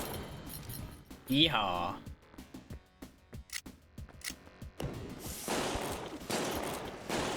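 Video-game gunfire crackles in a burst of rapid shots near the start, then sporadic single shots and clatter follow; a voice whoops and speaks briefly over the action.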